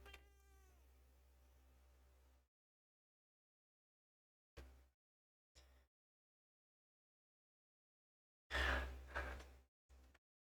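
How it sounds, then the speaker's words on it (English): A cat meows after being accidentally elbowed indoors. A long, drawn-out meow is followed by several short, loud cries separated by silence, heard close up with no talking. "I just elbowed my cat."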